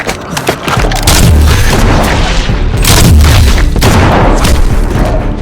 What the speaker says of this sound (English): used his precise shooting to take out the two enemies